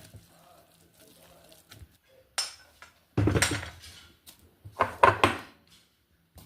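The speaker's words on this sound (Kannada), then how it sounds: "ಇದನ್ನೀಗ ಬೌಲ್ ಟ್ರಾನ್ಸ್ಫರ್ ಮಾಡುವ ಫ್ರೆಂಡ್ಸ್ ಬೌಲ್ ಟ್ರಾನ್ಸ್ಫರ್ ಮಾಡ್ಕೊಂಬ" Cooked cabbage palya being transferred into a bowl, with a few sharp clinks and scrapes of a utensil against metal cookware in short bursts, separated by near silence.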